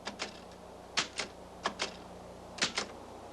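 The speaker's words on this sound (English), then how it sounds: "After midnight, finishing typing, Yulya has to hide the Lepta manuscript" A manual typewriter clacks out a manuscript late at night in sparse paired keystrokes, with short pauses between bursts, fairly quiet against a low background hum and no voices.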